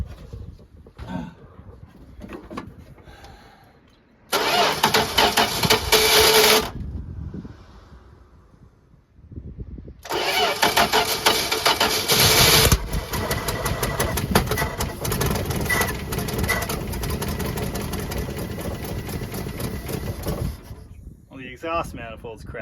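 A crusty 1978 Plymouth Volare with a Slant 6 engine and a cracked exhaust manifold cranks and catches, stalls briefly, then restarts into a loud, rough, steady idle. Wind buffets the microphone, voices talk at times, and a door thuds.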